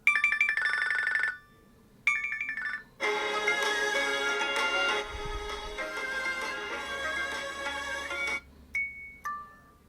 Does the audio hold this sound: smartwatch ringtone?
yes